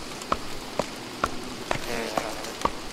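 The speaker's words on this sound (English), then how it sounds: "Rain is kind of slowing down." Steady rain hisses in Don't Starve, with a soft, even wash broken by regular light ticks about twice a second, fairly quiet and with no one talking.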